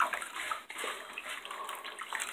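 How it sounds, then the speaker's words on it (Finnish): Warm water runs and splashes onto car floor mats as they are wetted for washing, a soft continuous spattering rush heard up close and fairly quiet. "Kastellaan, täällä on lämmintä vettä."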